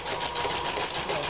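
The engine of a Brunner compressor runs nearby in a quick, regular chugging rhythm that stays steady through the short stretch.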